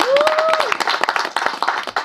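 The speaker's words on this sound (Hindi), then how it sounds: "सो नाचेगा इंडिया टीम के लिए तालियां हो जाएं यार" Audience clapping for the team at the promo launch of the reality dance show Nachega India, a short burst of distinct, fairly close claps with a brief vocal shout or whoop over the start.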